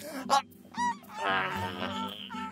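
A cartoon seagull gives several squawking, honking calls, rising and wavering in pitch, close and loud, in short bursts with no speech.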